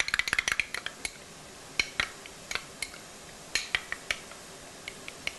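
French fries being tossed with mayonnaise in a bowl, giving a scatter of light clinks and scrapes, quick clustered taps at first and then sparser knocks, close and fairly quiet with no talking.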